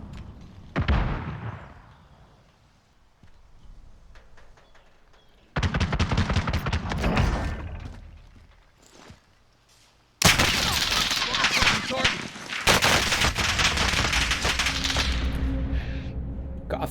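Sniper and assault rifle fire in Call of Duty: Warzone, with loud sharp shots and dense bursts of rapid gunfire in separate clusters, including sustained heavy volleys in the second half.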